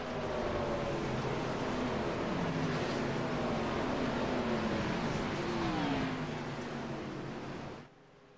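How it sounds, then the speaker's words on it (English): Race cars in a NASCAR Xfinity Series racing video game at Auto Club roar loudly and steadily as a pack accelerates at a green-flag restart, with overlapping engine tones climbing through the gears before dropping off at the end. "Field in the hands of Steve Baker. He's going to hit the gas. Green flag flies. Once again here at Auto Club. Drivers getting up through the gears"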